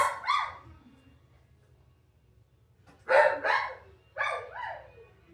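A dog barks during a training session: one short bark pair near the start, then a pause and two more quick barks close by, sharp and fairly loud against a quiet room.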